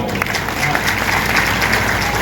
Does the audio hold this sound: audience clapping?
yes